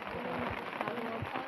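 Heavy rain pours steadily in a flooded Odisha village, a dense continuous hiss of drops drumming on surfaces with no pauses, close and fairly loud throughout.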